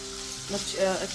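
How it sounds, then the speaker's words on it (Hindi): Mutton keema frying with spices in a pan as it is stirred, a soft close sizzle with faint scraping of the spoon, brief and quiet. "कीमे को अच्छे से जो है मसाले के साथ भूनेंगे"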